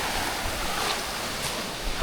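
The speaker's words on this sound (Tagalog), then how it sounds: "Ang lakas ng hampas ng alon, no?" Strong waves from Typhoon Uwan crash and surge against a rocky shore near a rock formation in Dipaculao, a steady roaring wash of surf mixed with gusty wind noise, loud and continuous with no talking.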